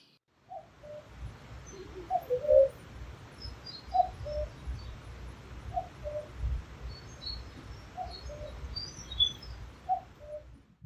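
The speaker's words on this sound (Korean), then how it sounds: "뻐꾸기 소리 말고도 다른 제잘거리는 새소리가 섞여 있어요" Cuckoo calls and other small birds chirp around rural Pyeongchang in Gangwon Province, scattered faint calls repeating over a low, steady background rumble, with no talking.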